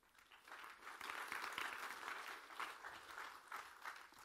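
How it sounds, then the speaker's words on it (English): An audience gives a round of applause, steady dense clapping that swells and holds for a few seconds at a moderate distance. "Why don't you give Tashmia a big round of applause?"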